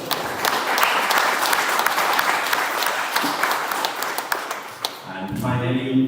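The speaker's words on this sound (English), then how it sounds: "Give a big applause to our parents as well." Loud audience applause fills a Toastmasters event hall, dense clapping sustained throughout, fading toward the end as a voice begins speaking.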